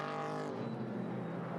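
GT4 race cars, a McLaren 570 and a Mercedes, race in a 2019 China GT round at Ningbo; a steady engine drone holds with a faint pitch sweep, sounding distant and fairly quiet with no voices.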